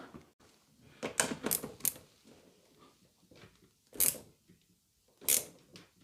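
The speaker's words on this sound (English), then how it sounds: "So let's get these screws tightened up" Screws are tightened on the bumper trim of a Rolls-Royce Silver Spirit III, close bursts of sharp clicking and ratcheting in separate short clusters with quiet pauses between them.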